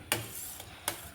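Plain water mixture stirred in a bowl, about one and a half glasses: two short, sharp scraping clinks of a utensil against the bowl, close up with quiet between them.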